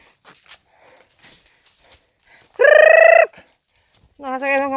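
Chickens riding along on a trip to a hillside farmhouse give a loud, brief burst of squawking and clucking, then a second harmonic call follows moments later, with quiet rustling in between.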